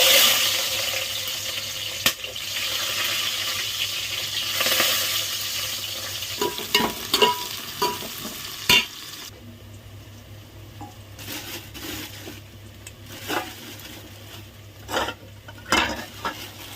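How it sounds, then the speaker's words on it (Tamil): Onions fry in ghee in a pan, a continuous hiss and sizzle broken by sharp clinks and scrapes of a spoon stirring against the pan, the sizzle quieting partway while the stirring taps carry on. "சேர்த்துட்டு இது கூட வெங்காயத்தை சேர்த்துருப்போம்."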